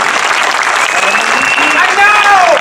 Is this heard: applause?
yes